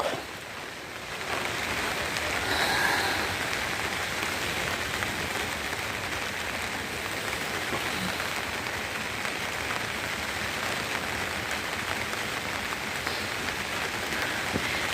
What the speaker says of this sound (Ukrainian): Сьогодні у нас на вулиці йде дощ